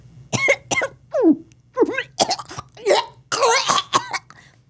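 A voice imitates retching and vomiting in a series of close, loud, gagging bursts separated by short pauses.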